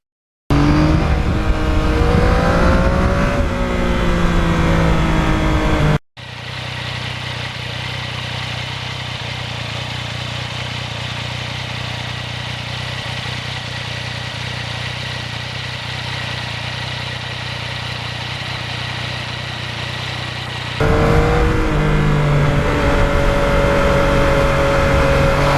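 A 2020 Yamaha MT-09 motorcycle with a quiet exhaust runs steadily, a smooth, loud engine drone with revving at the start and end and a long even hum in between, with no voices.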